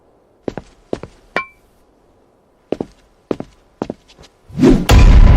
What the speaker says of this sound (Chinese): 来人，取锤子来！